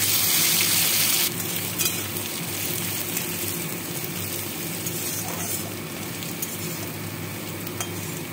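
Washed sona moong dal frying in mustard oil with cumin, bay leaf and dried chilli, a close steady sizzle with occasional scraping stirs, no talking.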